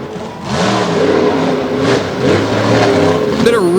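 A monster truck at an outdoor arena show revs hard and smokes its tires, a loud sustained engine roar with rising and falling pitch, with an announcer talking over it throughout.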